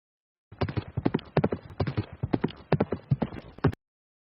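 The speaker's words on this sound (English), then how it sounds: "We see Hendricks now getting off his horse in Shelbyville" Horse hooves clip-clop in a quick, uneven rhythm of sharp, close hoof strikes, a dense run of steps that starts and stops abruptly, with no talk over it.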